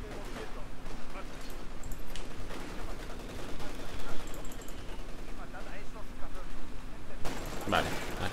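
Machine gun fire in the World War II strategy game Company of Heroes 2, a dense, continuous rattle of gunfire with scattered bursts that carries through the whole stretch, with voices mixed in underneath.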